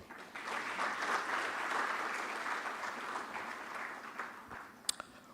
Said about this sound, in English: And of course, the biggest round of applause to everybody that is here.